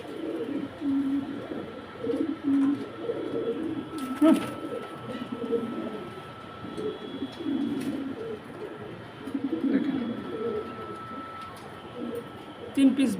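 Several pigeons coo in repeated low, soft phrases, close by, with a few brief flutters of wings, while someone talks over them.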